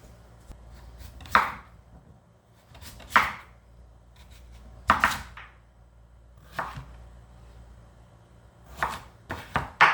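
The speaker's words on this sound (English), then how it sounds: "peel a sweet potato and chop it up into cubed pieces" A peeled sweet potato is cut into cubes on a cutting board, about seven sharp knife chops spaced irregularly over quiet room tone, with a quick double chop near the end and no talking.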